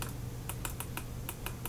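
A computer mouse clicks during Photoshop editing, giving about eight quiet, sharp, irregular clicks over a low steady hum in a quiet room.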